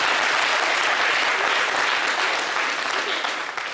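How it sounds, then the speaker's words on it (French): Loud, thick applause from a studio audience on a French-language TV talk show, an unbroken wash of clapping that holds steady before easing slightly at the end. "Il faut applaudir pour les femmes."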